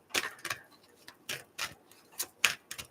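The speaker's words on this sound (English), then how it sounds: "I'm going to have to shuffle the decks in between" Tarot card decks being shuffled, a series of short, crisp riffling bursts in an irregular rhythm, close and fairly quiet, with no talk over them.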